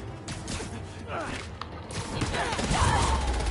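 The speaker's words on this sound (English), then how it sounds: "These shots be firing." Gunfire crackles in the video game Marvel's Spider-Man 2, a rapid scatter of sharp shots and thuds mixed with mechanical clanks and creaks, with a voice talking over part of it.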